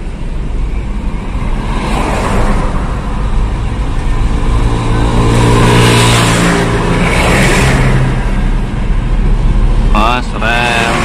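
A Toyota Kijang LGX car engine hums steadily at a constant pitch while driving in second gear, loud and close, with a brief voice near the end.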